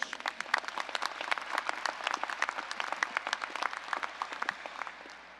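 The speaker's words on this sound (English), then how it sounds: "Give them a round of applause, please." Audience applause at a graduation ceremony, heard as a moderate, fairly distant patter of many hands clapping in a quick, even rhythm that fades slightly toward the end.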